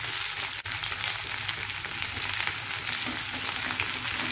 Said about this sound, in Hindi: अच्छा इसको फ्राई होने देंगे थोड़ा